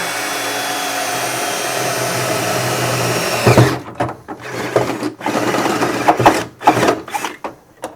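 A power drill bores a hole through the steel floor of a Ford Anglia during restoration, whining steadily for a few seconds, then breaking into short, uneven bursts as the bit cuts through.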